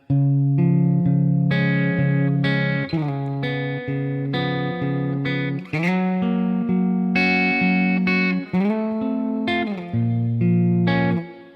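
An electric guitar plays a continuous riff of chords and single notes from a song with a fuzzy, distorted tone, steady and loud throughout.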